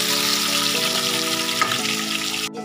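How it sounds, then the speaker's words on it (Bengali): Potato pieces frying with salt and turmeric in a pan give a steady, close, dense sizzle that holds at the same level throughout. Faint tonal hum sits underneath and drops out near the end. "নুন একটু হলুদ দিয়ে আমি আলুটা একটু ভাজা ভাজা করে নেব।"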